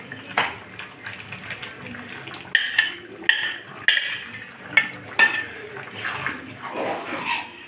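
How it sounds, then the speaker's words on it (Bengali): Fish curry gravy boiling in a pan while fried fish pieces go in, with soft bubbling under sharp clinks of utensil against pot and a few wet splashes, fairly close and uneven. "ঝোলটা টকবক করে দেখো বন্ধুরা ফুটছে"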